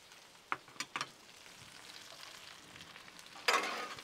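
Peppers and onions sizzle in butter on a Blackstone griddle, a faint steady hiss broken by a few sharp taps and a louder burst of sizzling as more vegetables land.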